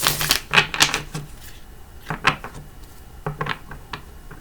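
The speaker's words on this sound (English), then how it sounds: "One more shuffle." A tarot card deck being shuffled gives close, crisp bursts of papery clicks and flutters in short irregular clusters separated by brief pauses, with no talk.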